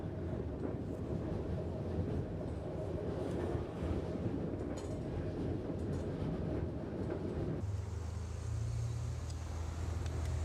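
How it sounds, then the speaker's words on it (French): A regional TER passenger train rolls past in a steady, loud wash of rumbling wheels and rail noise, with the tone dropping into a lower, heavier drone near the end. "On dirait un TER presque."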